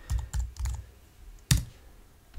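Keys clack on a computer keyboard, close and clear, in a few quick strokes followed by a single louder key press after a short pause.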